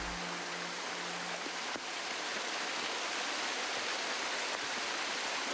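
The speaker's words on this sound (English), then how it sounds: "Water gushing forth relentlessly from the cliff." Steady, dense rush of water falling from a cliff, a constant broadband roar with no pauses, like a heavy cascade heard from nearby.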